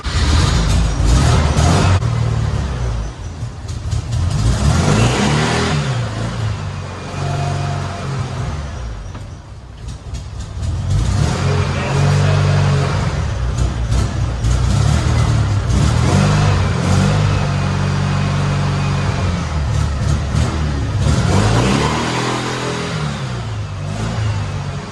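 A cheap Porsche rat rod build runs and drives close by, its engine revving and surging repeatedly with clattering mechanical noise and a dip around the middle, loud throughout.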